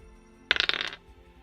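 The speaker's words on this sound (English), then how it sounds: "I was rolling my dice on the desk, as I always do" Dice rolled on a desk clatter in a quick run of sharp, rapid clicks that bounce and settle within half a second, close and fairly crisp against a quiet room.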